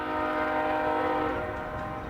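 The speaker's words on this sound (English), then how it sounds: "Train sounds." Train noise from a Sonic video game: a sustained, loud chord of steady horn-like tones over rumbling rail noise, holding for about two seconds with no talking.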